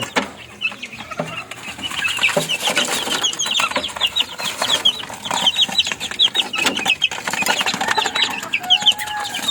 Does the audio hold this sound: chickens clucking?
yes